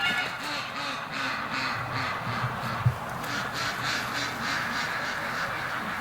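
Muscovy ducks call on a winter outing, a steady overlapping chorus of quacks and low cries from several birds at moderate distance, continuous throughout, with no talk.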